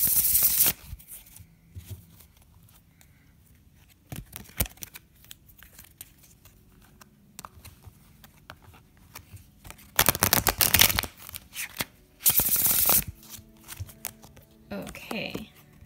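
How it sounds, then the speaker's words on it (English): Tarot cards are shuffled in several short papery bursts of riffling and crinkling, separated by quiet stretches where a voice speaks. "I'm going to shuffle a little more."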